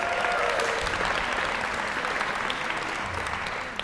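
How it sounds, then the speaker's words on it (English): Audience applause at a singing prize ceremony, a dense steady wash of many hands clapping throughout, fairly close and uninterrupted, with no voices standing out. "applause."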